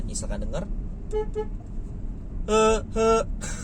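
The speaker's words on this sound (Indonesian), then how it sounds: "Yang pertama itu adalah bunyi klaksonnya." A Hyundai Creta's snail-type horn gives several short toots, first a few quick beeps, then two firmer honks and a final one, with someone speaking over the quieter start.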